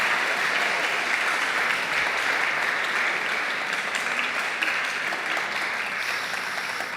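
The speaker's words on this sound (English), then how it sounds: "If we can have a round of applause" Dense, steady audience applause fills a conference-session room, loud and continuous throughout with no talking over it.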